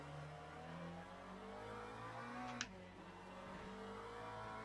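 A race car in the video game Le Mans Ultimate holds a steady, fairly quiet engine drone that drops in pitch at a quick upshift with a short click, then builds again.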